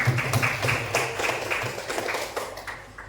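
Applause from a class of students, a dense run of claps with a few sharper taps standing out, fairly close and steady for a few seconds with no talking.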